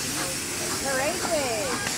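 Steam hisses as a broad, steady rush throughout a classic steam ride at a San Marino motor classic, with tonal whistling sweeps rising above it; a voice is faintly mixed in.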